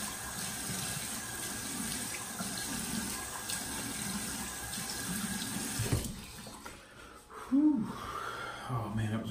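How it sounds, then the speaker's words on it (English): Tap water runs into a sink while someone rinses their face with cold water, a steady faint hiss that cuts off partway, followed by brief splashing and a short voice sound. "Rinse your face off here with some cold water."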